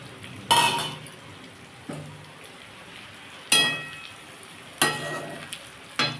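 Fried potato and yardlong beans with roasted ground cumin get stirred in a hot pan: the spatula clinks sharply against the metal several times at irregular intervals, each clink trailed by a short sizzle, close and clear, with no talking.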